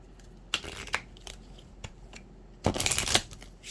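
Santa Muerte oracle cards being shuffled by hand, a few soft riffling bursts and taps, then a longer, louder riffle near the end, close and quiet with no talking.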